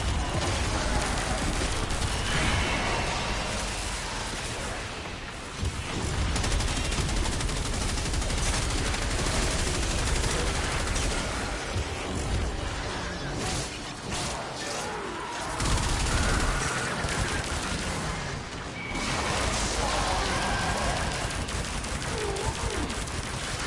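Rapid automatic gunfire in the Warframe video game, dense bursts of shots and impacts rattling almost continuously with a few short pauses, loud and close, with only faint voices in the mix.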